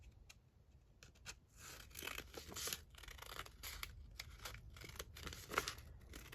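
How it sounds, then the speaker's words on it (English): Scissors snip through paper, cutting it to size for library pockets and journal cards. Soft, close cuts come in uneven bursts, with faint rustling of the paper, at a quiet level with no voice. "I can just go down and cut these all in to size."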